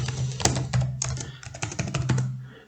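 Rapid keystrokes on a computer keyboard as a MySQL password is entered at a console, a close, steady burst of clicky typing with one sharper tap, heard alone without talk.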